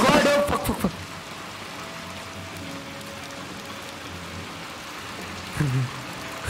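Rain falls in the video game Little Nightmares 2 as a constant soft wash, with brief louder vocal-like bursts at the very start and again near the end.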